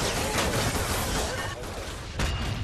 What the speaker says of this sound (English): Shoot them with pistols.